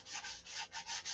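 Rhythmic back-and-forth scratchy strokes of sandpaper rubbing on wood, about six quick passes, close and fairly quiet.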